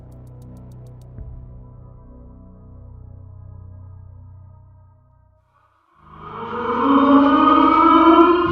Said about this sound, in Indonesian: Jam 6 pagi, sirine pergantian jam malam dibunyikan seluruh penjuru kota Yogyakarta.